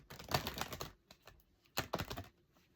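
Two quick bursts of crisp flicking and riffling, close up and quiet, with a brief pause between them.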